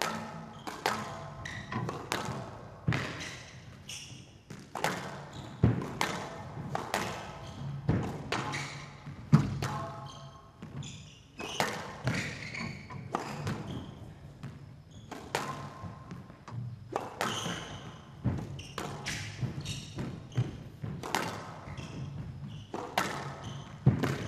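Squash ball struck by rackets in a professional match rally at the CIB ZED Squash Open, with a steady rhythm of sharp hits and wall thuds repeating every second or so in a reverberant court, and crowd murmur and occasional commentary beneath.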